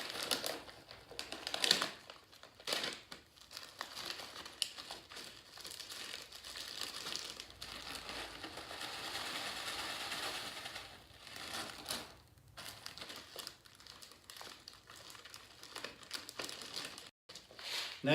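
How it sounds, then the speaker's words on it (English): Dry breakfast-burrito food, crushed by hand through a plastic baggie into finer bits, making close, quiet, irregular crinkling and crunching that continues in bursts throughout. "I just kind of crush them up through the baggie, make them a little finer."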